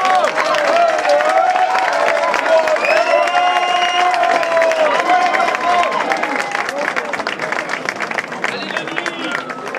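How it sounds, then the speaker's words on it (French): Applause and cheering from an audience at a university event gala, with steady clapping under whistles, shouts and crowd noise, loud and sustained across the whole stretch. "je vous prie de les applaudir pour les remercier"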